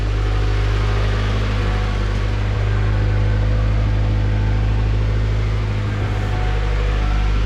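A Honda car fitted with budget 11-inch big brakes, its engine idling while it warms up, holding a steady low drone with a faint hum on top and no speech over it.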